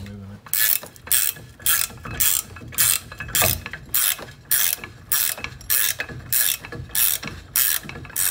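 A ratchet wrench turns a bolt behind the wheel cylinder on a ski boat trailer's brake, making loud, regular bursts of rapid clicking that repeat about every half second, with no talk.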